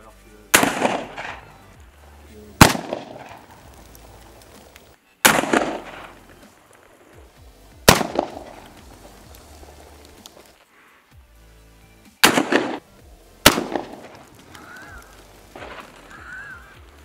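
A Kel-Tec KSG pump-action shotgun fires buckshot, with six loud, sharp blasts spaced a few seconds apart, each one trailing off in an echoing decay, and pump racking and faint handling between shots outdoors.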